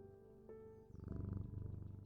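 A cat purrs close and steady in rapid rhythmic pulses, starting about halfway through after a soft tonal hum.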